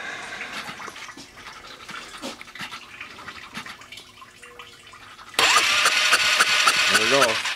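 A Polaris Sportsman ATV with a no-spark fault fires up suddenly partway through and settles into a loud, close, steady idle after several seconds of quieter shop sounds.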